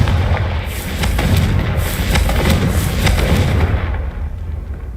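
A Confringo blasting spell bursts in Hogwarts Legacy, a loud explosive roar with crackling pops and rumbling debris that sustains for several seconds before tailing off.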